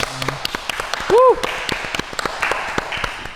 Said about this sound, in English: Let's clap it up for Jay and Junior.